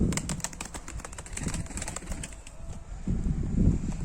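Tumbler pigeons in an Ankara coop coo low and steady while wings flap in quick bursts, with faint chirps over a busy indoor background and no talking.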